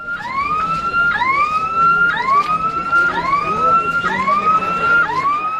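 Fire brigade vehicle siren at a student protest against a fee hike, a loud, close wailing tone rising and falling in steady, roughly one-second sweeps over a background of crowd and street noise.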